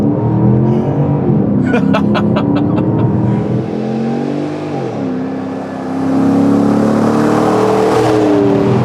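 An off-road-built Porsche Cayenne S engine pulls and rises in pitch, then drops and builds again, loud and close, with a brief clicking rattle early on.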